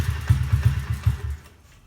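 A 2005 Honda CRF50 dirt bike engine catches after a kick start, giving a quick run of low, thumping putters at close range that fade out near the end.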